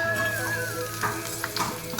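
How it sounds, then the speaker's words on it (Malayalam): Chopped sooji wheat frying in ghee, a steady sizzle with faint crackles and a few stirring scrapes, continuous and close for two seconds with no voices. "ഇതേപോലെ ചെറുതായിട്ട് നുറുക്കിയെടുത്തിട്ട് നെയ്ക്കകത്തിട്ട് വറുത്തെടുക്കുകയാണ്"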